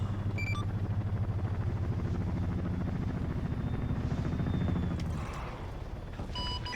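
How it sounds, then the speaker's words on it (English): A Chinook helicopter in ArmA 3 makes a loud, rapid rotor chop that holds steady for several seconds, then fades as it passes. Faint electronic beeps sound near the start and end. "I'm taking the Chinook. Watch this fucking flyby"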